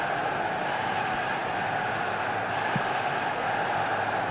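Steady stadium crowd noise from an eFootball match, a dense continuous roar holding at an even level throughout with no distinct cheers or peaks.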